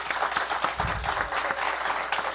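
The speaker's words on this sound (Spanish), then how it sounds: "denle un fuerte aplauso al señor juez Ulises Fuentes" A small audience at a law course session applauds a judge, dense steady clapping throughout with a brief low thump partway.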